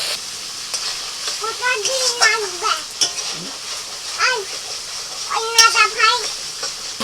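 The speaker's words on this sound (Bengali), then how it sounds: "মশলাটা একটু কষিয়ে দিয়ে দিচ্ছি" Thick spice paste sizzles and hisses in a hot pan while a utensil stirs and scrapes, with a voice speaking intermittently over the frying.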